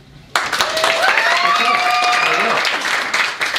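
A comedy club crowd bursts into sudden applause with whoops and cheering voices. The clapping starts abruptly, stays loud and busy, and eases slightly toward the end.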